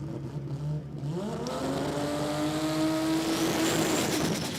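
Race cars run side by side at a drag racing event, engines revving up as they accelerate away in one loud, rising roar.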